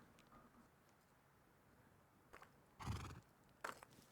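A horse in the survival video game Rust gives a couple of short whinnies and snorts near the end over a quiet background, with a few faint hoof clops.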